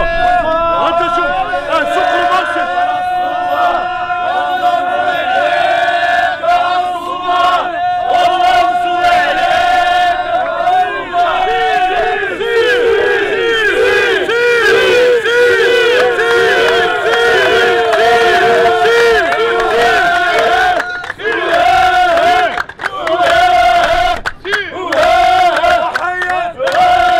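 Moroccan football fans chant together as a large, loud crowd, with sustained rhythmic voices and harmonic calls filling the stadium throughout, occasional louder swells rising over the dense roar.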